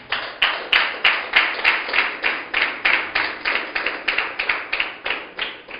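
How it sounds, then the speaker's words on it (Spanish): A church congregation claps in praise of the Lord, with steady rhythmic unison claps at roughly two per second, close and even throughout. "Aplauda al Señor."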